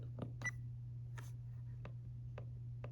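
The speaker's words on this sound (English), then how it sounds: "All the little menu selection beeps that you're hearing," Several short, faint electronic beeps and clicks at irregular intervals over a steady low hum, from an AKASO EK7000 action camera's menu being stepped through.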